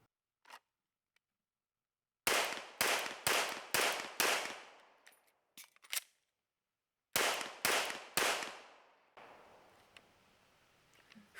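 Sharp shots ring out from a Langdon Tactical MK23 pistol: a quick string of about five or six, a pause, then three more, each cracking loud and decaying briefly, with no talk.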